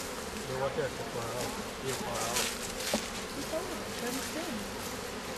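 Honeybees buzz steadily at close range during an outdoor hive inspection at a beekeepers' field day, a continuous insect drone running under people talking nearby.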